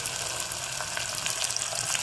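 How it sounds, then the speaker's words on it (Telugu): Sliced onions sizzle and fry in a pan as the base for a home-style mutton curry, a steady close crackling hiss with faint stirring underneath. "చూడండి, ఆనియన్స్ ఫ్రై అవుతూ ఉన్నాయి."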